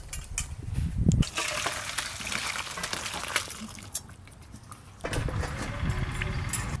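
Cooking water being poured off boiled potatoes and cauliflower: a close, rushing splash and drain that eases briefly, then surges again.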